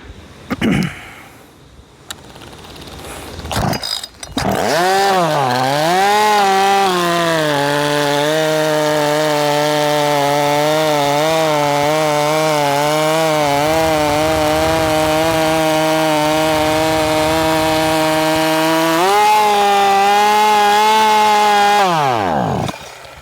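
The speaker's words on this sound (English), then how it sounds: "Let's put it in the wood and see if that timing advance made it any faster." A timing-advanced chainsaw is cutting into wood. After a few short bumps it revs up into a loud, sustained, strained buzz that holds for most of the clip, wavers briefly, then swells and cuts off.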